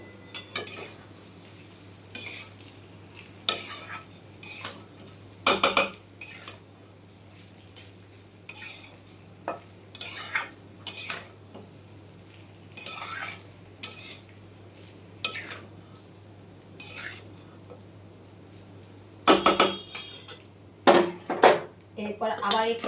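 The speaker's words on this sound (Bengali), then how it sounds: "দেওয়ার পর আবার একটুখানি নাড়াচাড়া করে নেব।" Cooked basmati rice being stirred in a wok, with repeated metallic scrapes and clanks of a spatula against the pan in irregular bursts over a faint steady hum.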